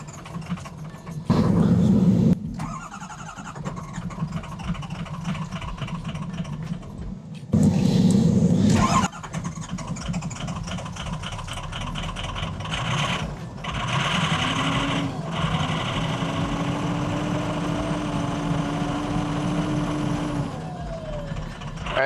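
A diesel tow truck engine with a bad injector cranks and catches, then idles roughly with an uneven, misfiring rhythm, loud and close, the revs rising and falling.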